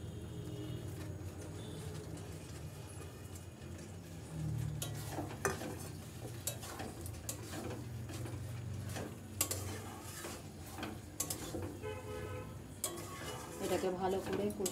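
Chicken pieces fry with spices in a pan, a low sizzle under occasional clinks and scrapes of stirring, while a voice talks over it.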